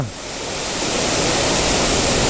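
Water at Odugathur waterfall pours down in a steady, loud, broadband rush that swells slightly and holds constant throughout, with no voices.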